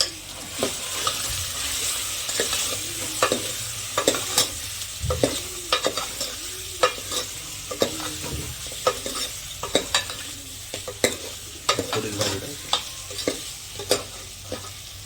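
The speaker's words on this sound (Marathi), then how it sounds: "मसाला सर्व मिक्स आहेत मस्तपैकी हलवून घेऊया आता" A spoon scrapes and clinks repeatedly in a pan while food sizzles steadily underneath, the stirring strokes coming in a quick, uneven rhythm close by.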